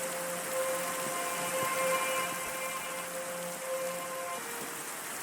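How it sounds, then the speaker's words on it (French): Steady game rain in a modded Minecraft world with Astral Sorcery, a soft continuous hiss holding level for the whole stretch, with faint thin tones running beneath and no talking. "Bon, il pleut, c'est chiant, mais on va faire avec."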